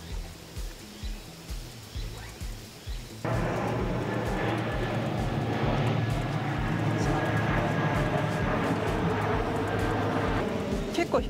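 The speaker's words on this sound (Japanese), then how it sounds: "結構飛行機飛びます。" An airplane flies overhead near Yokota Air Base above the Musashigaoka golf course, its steady broad roar rising suddenly and holding loud beneath people chatting outdoors.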